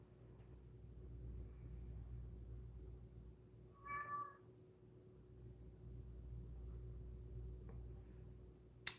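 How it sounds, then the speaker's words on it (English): A single short cat meow stands out midway, brief and fairly clear, over a steady low rumble of background noise. "Meow."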